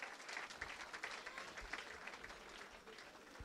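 A church congregation applauds during a baptism service, a dense, steady wash of many hands clapping close by throughout, with no voices rising above it.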